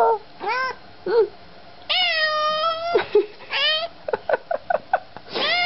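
A cat meows repeatedly on reuniting with its owner after a long absence. The meows are long, drawn-out and slightly hoarse, mixed with short chirps and quick little mews, close and loud, with no talk.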